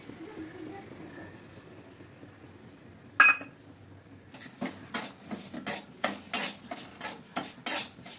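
Semolina roasting in a spoonful of oil in a pan, stirred with a spoon: one sharp metallic clink, then a series of regular scraping strokes against the pan, close and moderately loud with a faint sizzle beneath.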